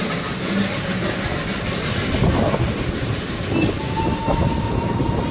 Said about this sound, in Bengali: স্টিম ইঞ্জিন গেল এটা একটা